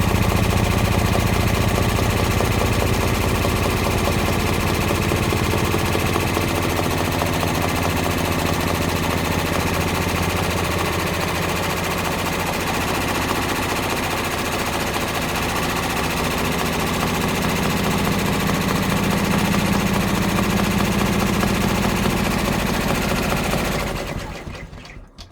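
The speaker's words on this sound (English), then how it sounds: "this is going to be 1 minute of stitching" A 10-needle embroidery machine stitching a freestanding haunted village bridge design, running as a continuous rapid mechanical hammering and whirring, loud and close, stopping near the end.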